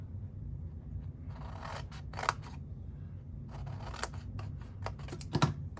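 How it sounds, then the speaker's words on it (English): Scissors cutting a sheet of paper for a one-sheet craft box, a series of close, crisp snips and scraping blade strokes, some louder than others, with short pauses between cuts. "And you see, I'm almost done cutting."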